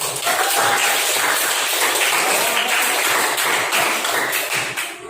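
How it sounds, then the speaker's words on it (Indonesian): Students in an Indonesian language classroom clap together, a steady dense patter of many hands that stays loud throughout and trails off slightly at the very end. "Tepuk tangan dulu."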